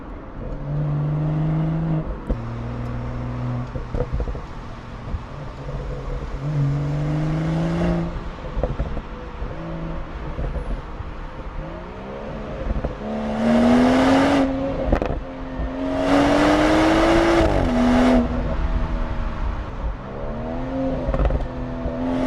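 A BMW 440i engine with a resonator delete revs and drones steadily, rising in pitch in bursts with a rougher, louder roar near the end; no talking.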